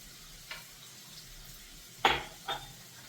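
A spoon scrapes and clinks in a pan as ground paste is stirred into sautéed onions, a few distinct knocks over a soft background sizzle, with no talking.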